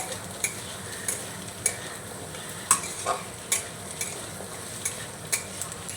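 Yardlong beans and diced potato being stirred with spices in a pan, a steady low sizzle broken by about ten sharp scraping clicks of the spoon against the pan, close and clear with no talking.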